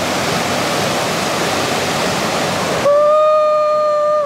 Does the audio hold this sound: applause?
no